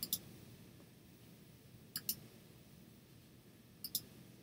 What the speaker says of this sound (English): oops, one wrong click, Richie boy.